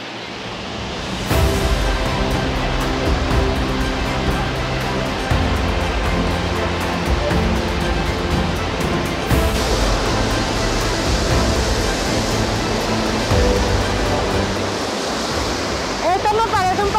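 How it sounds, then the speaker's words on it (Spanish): Roaring water of Niagara Falls at the Cave of the Winds, a loud, steady broadband rush of falling water and spray that holds constant throughout, with gusts of wind. "Increíble ver cómo cae el agua, se siente la fuerza y sobre todo la energía que lleva"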